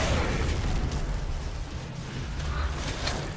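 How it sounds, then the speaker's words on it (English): A grenade blast in the video game Gears of War: Judgment, a rumbling burst of noise that starts strong and slowly decays over a few seconds, with no voices. "Put a grenade in there."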